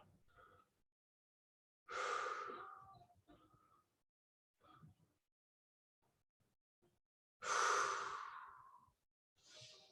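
Slow, deep breaths during a yoga stretch, with two long loud exhales or sighs standing out between fainter, quieter breaths and near silence.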